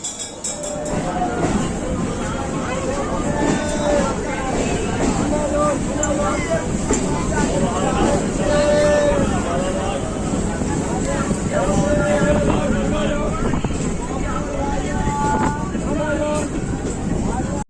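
A crowded evening local train runs from Lakshmikantapur toward Sealdah, its steady rolling rumble and wind rush continuous throughout, with passenger voices murmuring under the noise.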